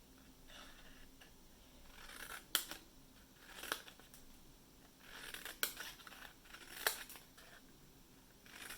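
Scissors snip small miters into a tiny paper treat cup, a handful of quiet, crisp cuts spaced a second or so apart against a soft room background.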